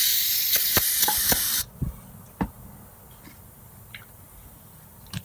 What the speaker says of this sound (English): Let's see what happens if we put more brake cleaner